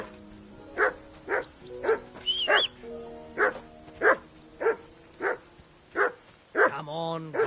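A dog barking in the medieval game Kingdom Come: Deliverance II, about ten sharp, evenly spaced barks close by, ending in a whine, with voices and other game sounds underneath.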